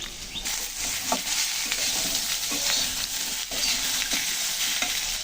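Ginger and cumin paste being stir-fried into a tilapia curry with ridge gourd and potato, a close, constant sizzle broken by repeated scraping strokes of a spatula in the pan.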